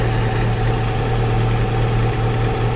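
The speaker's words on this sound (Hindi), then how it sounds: "मेरा एक बार रेडिएटर फैन चल चुका है, देखो इस टाइम चल रहा है" The radiator fan of a Maruti Eeco runs steadily under the hood, a loud, close, constant whir blended with engine hum and airflow noise, with no voices.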